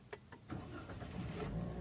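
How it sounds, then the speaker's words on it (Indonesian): A car's engine is started with the gearbox in neutral, a short cranking burst followed by a steady idle hum, with a few faint clicks just before it catches. "Oke, saya hidupkan mesin dalam keadaan posisi gigi netral ya."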